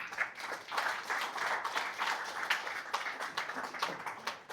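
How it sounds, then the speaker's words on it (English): A lecture audience claps in a hall, a modest spread of hands in uneven bursts, soft and somewhat distant, with the clapping rising and dipping over a few seconds. "That deserves a clap, guys."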